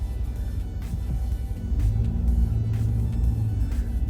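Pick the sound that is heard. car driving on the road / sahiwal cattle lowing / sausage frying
car driving on the road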